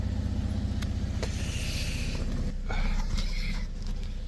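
A Holden VE Commodore driving after a timing chain replacement, its engine a steady low hum with road rumble throughout and a slight rise in revs midway, heard from inside the car with no talking.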